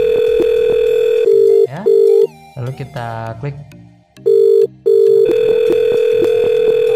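A softphone call from 3CX to X-Lite rings with a loud, steady electronic tone, in repeated bursts at the start and end. Brief talk and clicks fill the gap in the middle.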